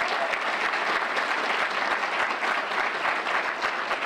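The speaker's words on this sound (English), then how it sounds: "If you believe in justice, give yourself a hand clap." An audience at a public meeting applauds, many hands clapping in a dense, steady roar that holds evenly throughout.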